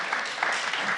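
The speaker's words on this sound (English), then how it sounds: "can we give Lisa and Jessica one more huge round of applause" A brief, steady burst of audience applause at a civic panel on homelessness in Sacramento, a dense wash of clapping held at an even, moderate level throughout.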